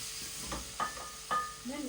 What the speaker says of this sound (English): add in our paprika. Give that a good stir.